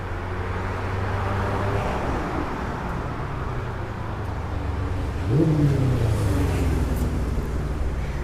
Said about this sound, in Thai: เดี๋ยวพาไปเบิ้งรถมือสองรุ่นเอ็มนะจ้าอยู่ทางนี้เลยจ้า